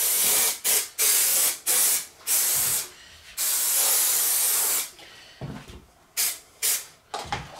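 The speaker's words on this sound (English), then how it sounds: "just start by spraying a bit of glue. This is some heavy-duty adhesive carpet glue" Heavy-duty adhesive carpet glue sprayed from an aerosol can inside an Audi TT MK1, loud close hissing bursts, several short rhythmic sprays followed by one long continuous spray, then more quick bursts.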